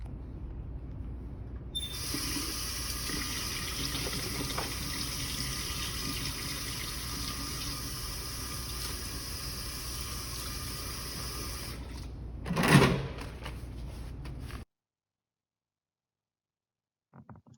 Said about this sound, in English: Now I'm going to show you a video of somebody washing their hands